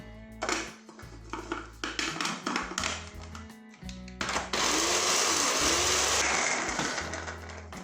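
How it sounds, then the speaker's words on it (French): A food processor spins hummus ingredients with a spoonful of Guérande salt, sounding first as choppy, stuttering bursts and clatter, then as one continuous loud whirring run. "une cuillère de sel de Guérande, et hop, on y redonne un petit coup de turbine"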